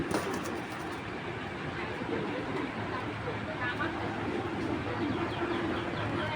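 A tournament pigeon coos in low murmurs amid a steady wash of nearby chatter and background noise.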